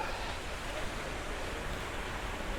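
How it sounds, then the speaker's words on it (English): Water rushes steadily in a stream in the Northern California backcountry, a broad continuous hiss and roar without clear breaks, fairly close and alone. "The water is coming down this way"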